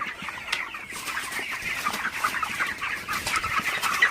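Broiler chickens cluck and chirp steadily inside a poultry shed at night, a dense overlapping flock chorus kept fairly close and continuous with no talking.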